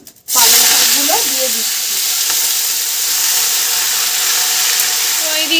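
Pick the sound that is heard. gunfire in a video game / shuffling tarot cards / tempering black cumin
tempering black cumin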